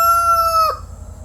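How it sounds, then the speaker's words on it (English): A rooster crows close by, one loud, drawn-out call that breaks off sharply at the end, leaving faint background noise. "Look at that rooster right there."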